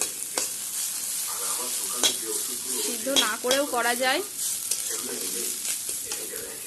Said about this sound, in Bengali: এটা আরেকটু ভাজবো ভাজা হয়েই গেছে